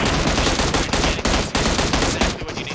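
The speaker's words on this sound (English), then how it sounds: "A lot of gunshots still going off." Dense bursts of rapid gunfire from the video game PUBG Mobile crackle continuously, with repeated volleys and brief gaps between shots.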